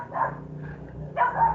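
Dogs bark outside a room, two muffled, distant barks separated by a short pause, with no voices over them.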